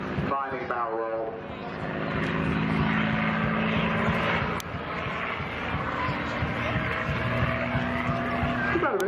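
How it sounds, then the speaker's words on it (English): A P-51 Mustang flies aerobatics at an air show, its loud engine roar and rising whine sweeping through a barrel roll, under a commentator's voice over the public address. "there's that sharp whine from the gun port, so characteristic of the B-51 Mustang"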